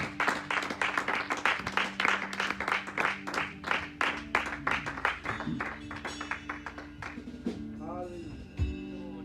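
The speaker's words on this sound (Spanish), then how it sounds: "Le damos un aplauso fuerte al Señor." A congregation at an evening church communion service gives loud rhythmic applause, many hands clapping in a fast, steady beat for several seconds before it tapers off into a few scattered claps.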